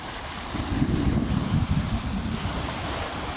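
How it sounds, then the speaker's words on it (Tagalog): Manila Bay waves wash gently onto Dolomite Beach in a soft, continuous swell, swelling slightly in the middle before easing, with no voices. "Yung lagaslas ng alon, ayun oh."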